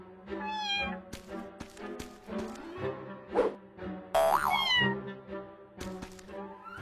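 A cat in an animated show meows several times, short close mews mixed with music and cartoon sound effects, including a springy boing.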